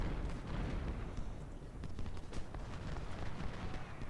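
Distant Civil War artillery and musket fire in the video game Ultimate General: Civil War at the Battle of Port Republic, a faint continuous rumble of overlapping booms and crackling shots.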